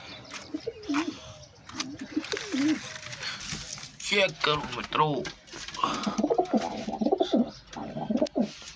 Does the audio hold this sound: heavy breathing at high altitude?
no